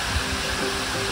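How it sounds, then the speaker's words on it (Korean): Steady, dense rushing of a waterfall at a scenic spot near Seoul, an even hiss with no talk, continuous for the whole short stretch. "폭포 소리 들으면서 바쁜 일상 속 잃어버렸던 여유를 찾아보세요"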